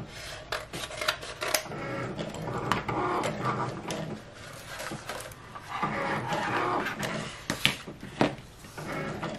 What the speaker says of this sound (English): So right now it is scoring it, which is our whole purpose for putting the scoring wheel in.